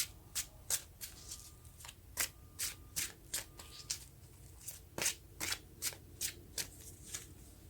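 A tarot deck is shuffled by hand in a quiet room. Sharp riffling bursts repeat in an irregular rhythm, roughly twice a second, close and crisp, with no one talking.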